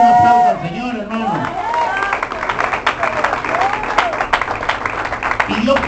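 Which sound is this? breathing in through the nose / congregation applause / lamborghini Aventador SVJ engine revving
congregation applause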